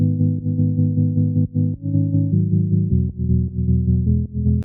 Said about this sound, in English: There's this solid pad, which is just like a kind of sine wave with like a few of the overtones.